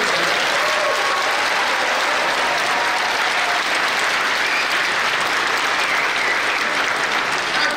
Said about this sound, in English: So let's give them the big round of applause.